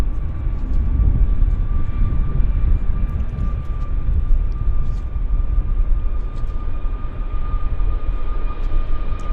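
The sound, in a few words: Boeing 747-100 jet taking off from Vancouver airport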